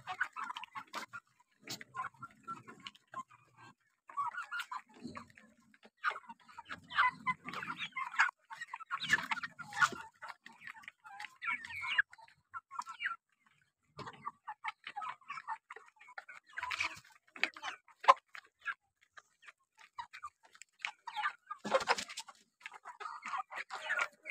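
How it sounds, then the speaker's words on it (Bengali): Roosters fight in a farmyard with sporadic squawks, clucks and scuffling bursts scattered irregularly, fairly faint and mid-distance, with quiet gaps between. "মোরগ লড়াই হচ্ছে।"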